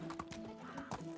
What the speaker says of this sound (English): Hearing that donkey is a trick.